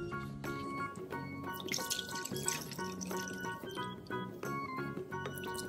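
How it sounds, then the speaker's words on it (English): Water being poured into glasses, a continuous trickle and splash with rising, ringing tones as the glasses fill, quiet and close. "Let's pour some water."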